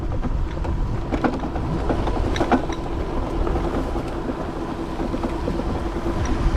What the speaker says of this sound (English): I'm doing 20 miles an hour straight throttle in the grass.